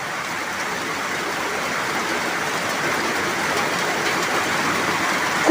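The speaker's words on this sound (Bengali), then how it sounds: "বৃষ্টি হচ্ছে, খুব জোরে বৃষ্টি হচ্ছে।" Heavy rain pours down in a dense, even roar that holds steady and loud from start to finish, with no voices.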